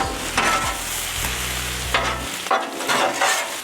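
Cabbage and sausage sizzle loudly on a hot Blackstone griddle, with steady frying crackle and a few bursts of stirring and scraping from a spatula, heard close up with no talking.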